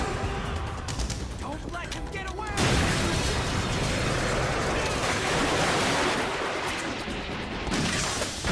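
Bursts of gunfire aimed at a swimming character in Metal Gear Solid 2, a dense rattling barrage that starts partway through and keeps on loudly to the end, mixed with crashes and game sound.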